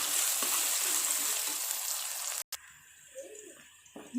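Chopped onions fry to golden brown in a pan for aloo chicken salan, a loud, steady hiss with a brief cutoff and a softer sizzle afterward.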